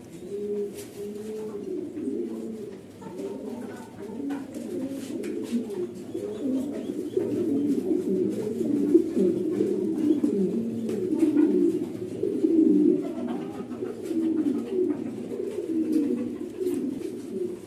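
A pair of Shocking Master pigeons, a male and a tiger-marked female, coo steadily and close by, with layered, rolling calls overlapping throughout and no talk.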